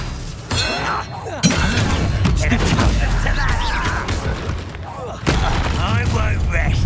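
Expelliarmus disarming spell cast in the wizarding game Hogwarts Legacy, a shattering magical crack over a busy duel with booming impacts, crackling bursts and shouted voices throughout, loud and close.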